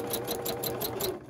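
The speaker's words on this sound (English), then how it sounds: "I hope you can hear me over the top of the sewing machine" A sewing machine runs steadily through free-motion stitching on a bowl made with dissolving film, its fast, even mechanical whir continuous and close, easing slightly at the very end.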